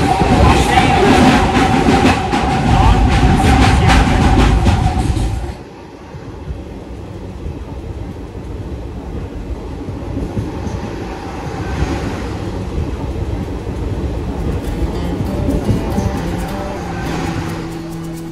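Haldibari Intercity Express train running on the Kolkata route, with a loud rumbling, clattering rush for the first five seconds, then a quieter steady interior hum and rattle of the carriage near the AC chair car.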